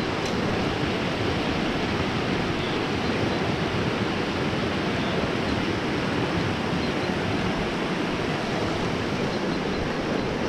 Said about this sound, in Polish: Wspaniała, piękna rzeka